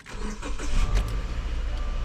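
A car with a broken AC unit starts up close by in a heatwave, with a quick cranking catch that settles into a steady low engine rumble.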